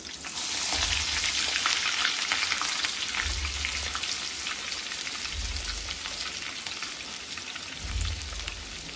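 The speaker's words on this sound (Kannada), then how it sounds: "ಬೆಳ್ಳುಳ್ಳಿ ಒಗ್ಗರಣೆಗೆ ಹಾಕೋತಾ ಇದ್ದೀನಿ." Crushed garlic frying in hot oil for a tempering, giving a steady, dense sizzle that runs unbroken throughout, with faint low thumps of the pan and no talking.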